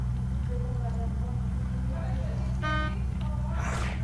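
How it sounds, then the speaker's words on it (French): A vehicle horn in the video game Unturned gives one brief honk midway, set against constant engine rumble, with people talking over it. "Oh, j'ai klaxonné."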